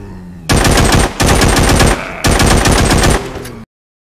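Loud automatic gunfire from The Walking Zombie 2 video game, three rapid sustained bursts with brief gaps between them, each a dense stream of shots, ending abruptly in silence.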